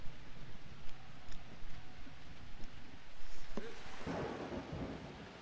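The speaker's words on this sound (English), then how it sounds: "Hand off in the rain." Soft steady rain hisses through a Blood Bowl video game match, broken near the end by a rolling crack of thunder that swells and fades.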